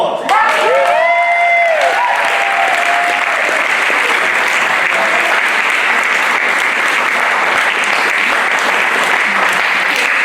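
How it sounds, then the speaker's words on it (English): Loud, sustained applause from a theatre audience after a play, with dense clapping filling the whole stretch and a brief tonal flourish and some cheering near the start. "Another applause."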